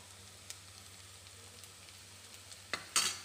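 Salt and turmeric being stirred into tomato rice in a pan over a medium gas flame, a low quiet sizzle with a few scrapes of a spoon, the last ones louder.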